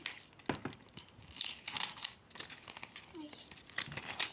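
Crinkly plastic packaging of a toy is torn and crumpled open at close range in repeated rustling bursts, while someone speaks over it.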